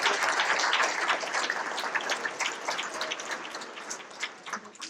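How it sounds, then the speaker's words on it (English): A roomful of guests applauds at a Salvation Army Red Kettle charity luncheon, a dense, fairly soft wash of clapping that slowly thins out over a few seconds. "Can we give everybody in the room a big round of applause for being here?"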